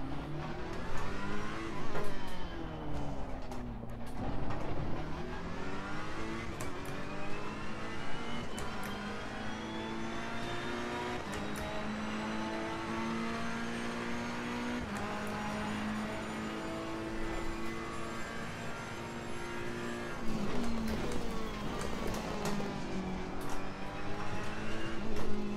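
A Ferrari 488 race car laps Paul Ricard in the video game Assetto Corsa Competizione, its engine note climbing and dropping steadily through gear changes and braking into corners, loud and continuous with no talk.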